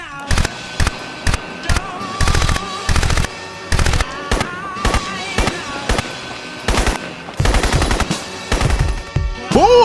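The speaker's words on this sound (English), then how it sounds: "I think that the Scar just sounds so much better than the AK" Rapid bursts of SCAR rifle gunfire in the video game Crysis, short volleys separated by brief pauses, loud and close with sharp cracks throughout.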